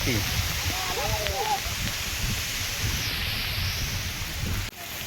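Steady heavy rain pours throughout at Dindigad Shiv temple, Bhiwandi, a dense continuous hiss with a few voices talking faintly underneath.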